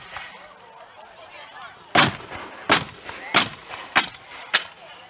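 Muskets fire a volley at a historical reenactment, heard as five sharp separate bangs spaced under a second apart, moderately distant, after a quiet outdoor lull.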